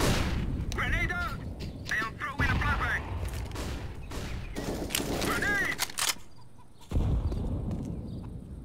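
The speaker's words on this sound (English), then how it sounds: "I am throwing a grenade." A grenade blast and surrounding gunfire in the competitive shooter CS:GO, with heavy booming bursts and crackling shots over several seconds, mixed with game effects and a clipped thump near the end.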